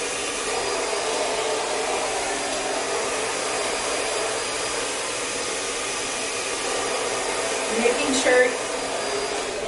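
A hair dryer blows steadily and fairly loud throughout while a stylist blow-dries hair, the airflow shifting briefly near the end as the nozzle is angled down the hair shaft.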